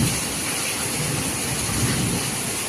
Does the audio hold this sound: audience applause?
no